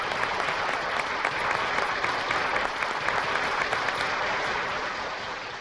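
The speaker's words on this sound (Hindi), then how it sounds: "जरा जोरदार तालियों से स्वागत कीजिए" Studio audience applause for a judge being welcomed on a Hindi TV comedy show, dense and steady clapping from a full crowd that carries on throughout and thins slightly near the end.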